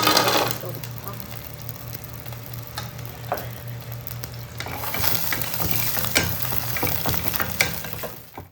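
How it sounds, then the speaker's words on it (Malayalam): Cashew nuts and raisins fry in ghee over a low flame for a Malabar-style plantain dish, giving a steady soft sizzle broken by scattered clicks and scrapes of stirring. "കാഷ്യൂനട്ടും കിസ്മിസും കൂടെ നെയ്യിലേക്ക് ചേർത്ത് കൊടുത്തിട്ട് ലോ ഫ്ലെയിമിലാക്കിയിട്ട് രണ്ടും ഒന്ന് വറുത്തെടുക്കാം"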